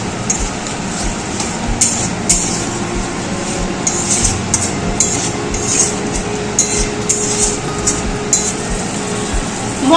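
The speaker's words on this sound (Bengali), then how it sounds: "নেড়ে চেড়ে নিচ্ছি।" Masala with a cashew-raisin paste is stirred in a pan for a fish dish, giving repeated sharp clinks and scrapes of a metal spatula against the pan over a low background hum, with no speech.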